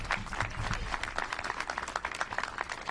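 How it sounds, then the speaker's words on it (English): Audience applause follows a governor's remarks praising nuclear plant workers at a green energy bill signing, a dense steady patter of many hands clapping throughout at moderate level. "You can clap for that too."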